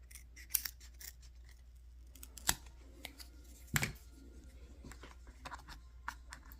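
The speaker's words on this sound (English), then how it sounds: "And I'll just keep trimming as I need." Scissors snip through an RC crawler body shell, an SRT Crawlhawk, in a series of sharp, close cuts spaced irregularly, with a few louder snips standing out over quiet room noise.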